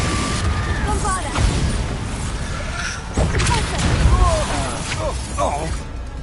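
Bombarda explosion spells go off in Hogwarts Legacy combat, low booming bursts buried in a dense wash of magical battle effects and game noise.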